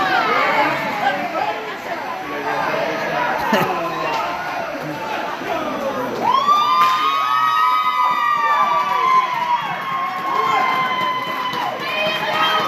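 A hockey arena crowd cheers and chatters loudly throughout, with shouts and whoops swelling, under an announcer's voice calling the game.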